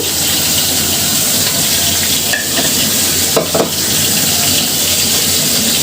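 Chopped onion and green chili hitting hot oil in a pan, a loud continuous sizzle and hiss with a couple of scraping stirs near the end, no voices.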